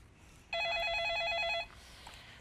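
A telephone rings once in a trading-consultation broadcast studio: a steady electronic warble lasting about a second, loud and clear over a quiet background, with no talking.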